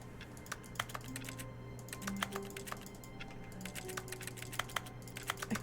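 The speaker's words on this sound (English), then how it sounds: "I can sort of type on my keyboard." A computer keyboard in the game The Stanley Parable: Ultra Deluxe is typed on quietly, irregular soft key clicks tapping in loose bursts over a low steady hum, with no voices.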